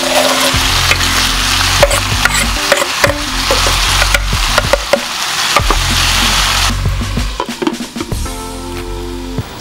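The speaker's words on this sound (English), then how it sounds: "I'm gonna dump the onions in there with the ground beef, just like this" Onions and ground beef sizzle loudly in a hot pan along with yellow peppers, a steady crackling hiss broken by repeated stirring scrapes and clatters, with no talking.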